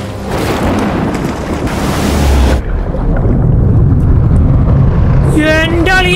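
Boat racing across the open sea in Uncharted 4, a steady loud rush of surf, spray and wind with a dull engine drone, ending in splashing water.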